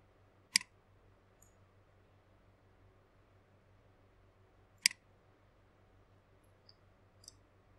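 Computer mouse clicking while recording in Audacity with a BM900 condenser mic: two sharp isolated clicks several seconds apart, with a couple of fainter ticks afterward, over a quiet hum.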